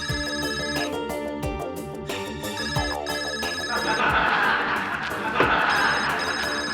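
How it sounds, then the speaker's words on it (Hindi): A mobile phone ringtone goes off in a courtroom, a loud, melodic electronic tune repeating its phrase continuously throughout with no one talking over it. "किस बदतमीज का ये फोन है? बंद करो उसको।"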